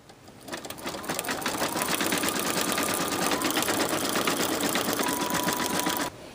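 Embroidery machine stitching an outline over a layered Mylar design taped in place, a steady rapid mechanical needle chatter running continuously and close, stopping abruptly at the end.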